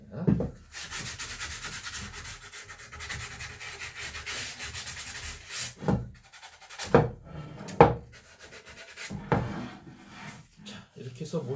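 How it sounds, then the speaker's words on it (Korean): Hand sanding the edges of a wooden cutting board with a sheet of sandpaper held under the fingers, close scratchy rubbing strokes, a long sustained pass, then short separate strokes with pauses. "사포만 들고 모서리를 손가락으로 이렇게 문질러 주시면 부드럽게 모서리 부분도"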